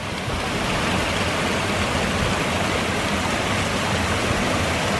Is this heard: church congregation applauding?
no